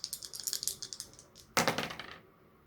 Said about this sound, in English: I'm going to re-roll that one because the dice fell off the table